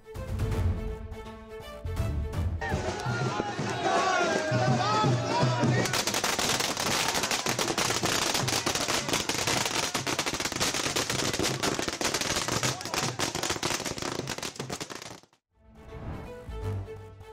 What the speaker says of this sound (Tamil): ஐக்கிய ஜனதா தள கட்சி தொண்டர்கள் பட்டாசு வெடித்தும் இனிப்புகள் வழங்கியும் கொண்டாடினார்கள்